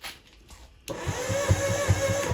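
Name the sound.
Wave Venture jet ski engine cranking slowly on weak battery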